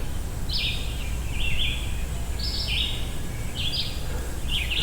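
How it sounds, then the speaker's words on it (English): Several high, bright chirping phrases from a bird repeat in short bursts on an evening outdoors, over a quiet, low outdoor rumble, moderately close. "You can hear the birds."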